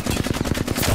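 Rapid automatic gunfire from the video game Apex Legends, a dense burst of evenly spaced shots lasting under a second, loud and close with no talking over it.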